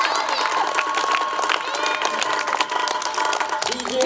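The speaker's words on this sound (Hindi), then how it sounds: "जोरदार तालियों से इस्तकबाल करें बच्चे" Children at a primary school annual sports day cheer and clap as a crowd, a steady dense wash of applause and shouting throughout with voices mixed in.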